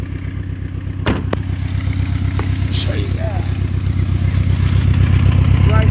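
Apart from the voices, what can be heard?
exhaust leak at catalytic converter of Dodge Ram truck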